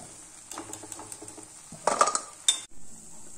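Crispy fried goli bonda being lifted out of hot oil with a metal ladle and dropped into a vessel, producing a few sharp clinks and clatters over a soft background sizzle.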